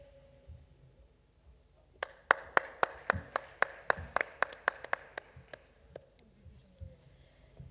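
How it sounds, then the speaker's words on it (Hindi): Sharp individual claps ring out in a quick, irregular series at an awards ceremony in Rajasthan, India, fading to a few scattered final claps in a quiet hall. "तालियों की गूंज कम नहीं होनी चाहिए"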